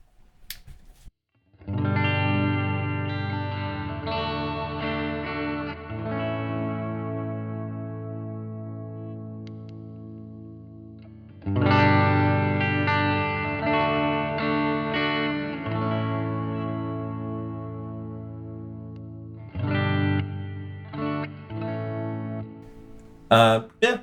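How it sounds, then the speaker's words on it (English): An electric guitar runs through a tone capture set to emulate a Memory Man analog delay, playing sustained chords with echoing repeats and a slight chorus shimmer, loud and clear, in three long phrases. "So I tried to get it close to the sound of the memory man"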